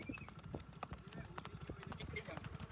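A horse ridden through the rain clip-clops in steady, repeated hoofbeats close by, while people talk and call out over the hooves.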